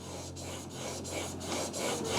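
A hand plane blade is honed on a fine sharpening stone to remove the burr, giving close, steady rasping strokes back and forth with a regular rhythm, loud and alone.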